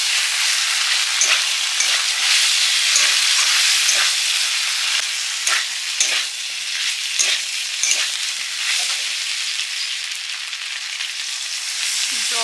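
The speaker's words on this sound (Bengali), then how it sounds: "কাঁচকলা ভাজার পরে পোস্ত বাটা দিয়ে দিলাম" Fried raw banana pieces sizzle loudly in a pan with sugar, ghee and poppy seed paste as a spoon stirs them, the steady hiss broken by frequent scraping strokes, with no talk.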